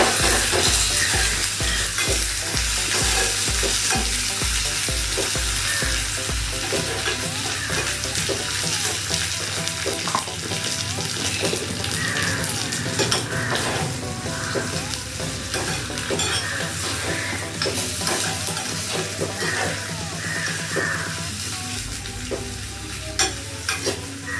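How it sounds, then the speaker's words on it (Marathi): Ingredients for kheer are roasted in ghee in a pan, with a continuous loud sizzle and repeated scraping, clattering strokes of a spoon stirring throughout, with no talk. "छानपैकी मी आता तुपामध्ये भाजून घेत आहे ते"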